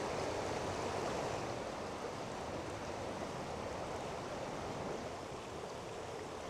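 A river flows at a riverside in Takayama, a steady broadband rush of water that is fairly faint and continuous, with no voices.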